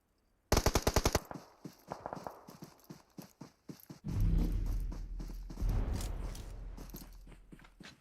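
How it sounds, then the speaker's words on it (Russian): Heavy automatic gunfire in PUBG Mobile: a sharp rapid burst of close shots, then scattered single and short bursts, followed by louder, rumbling sustained fire that swells and fades. "Это кто стреляет так жестко?"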